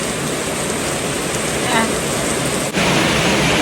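Evening rain pours down steadily during a village merit-making ceremony, a loud and constant hiss with faint voices mixed in.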